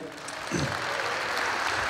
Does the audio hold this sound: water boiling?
no